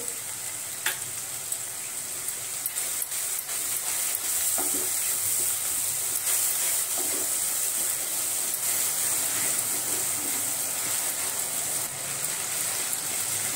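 Onion sautéing in a pan with half a spoon of ginger garlic paste for a Kokan-style val bean curry: a steady, loud, close sizzle with occasional stirring scrapes, no talking.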